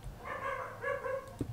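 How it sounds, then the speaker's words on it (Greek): Several dogs bark and yip in quick, uneven bursts at moderate distance, a short run of layered barking with a whimper-like tone near the end. "Τα σκυλιά μου τι να κάνω"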